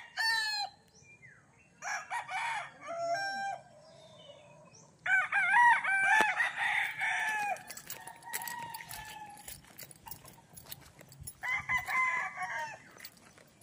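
Chickens at a game farm in Bauang, La Union, with over a hundred birds, crow and cluck repeatedly: several roosters give loud, close crows in overlapping bursts, with clucking between them.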